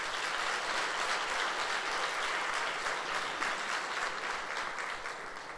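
A church congregation at a Sunday service applauds steadily, a dense, even wash of clapping that holds for several seconds and eases off slightly near the end.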